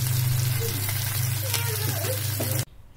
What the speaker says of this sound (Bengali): হালকা ব্রাউন করে ভেজে নিতে হবে।